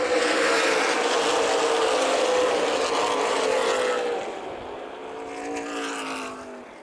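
Stock race cars on the Toledo Speedway oval roar back up to speed on a restart, a dense loud engine drone that swells, then eases as the pack moves off and another car passes near the end.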